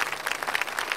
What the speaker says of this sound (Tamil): நல்லா கைத்தட்டலாம் வாங்கிட்டாரு